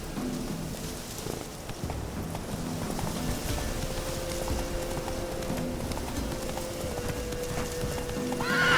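Horse hooves gallop in The Witcher 3, a steady clip-clop rhythm carried by a whinny and a constant ambient bed, with the sound swelling louder near the end.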